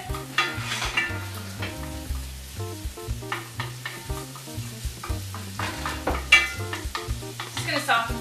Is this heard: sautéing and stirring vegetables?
yes